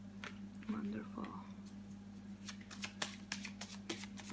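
Tarot cards are shuffled by hand in soft, quick riffling bursts, growing denser toward the end, over a low steady hum, with faint whispered voice at the start.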